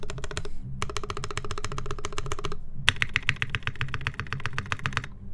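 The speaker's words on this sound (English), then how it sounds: "I better not press too hard on the spacebar." Someone types on a modded Noxary Vulcan Pro mechanical keyboard, producing close, rapid clacking in three bursts separated by brief pauses.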